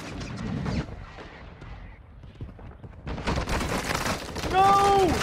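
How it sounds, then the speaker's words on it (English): Mortar strike explosions in Warzone Mobile, a cluster of muffled booms and gunfire that swells louder toward the end, with a player talking over it. "Another mortar strike, dude."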